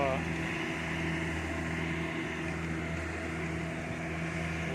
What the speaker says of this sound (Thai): เสียงเร่งเครื่องนี้อาจจะเร็วแรงขึ้นนิดนึงแบบ สงสัยรถติดโคลน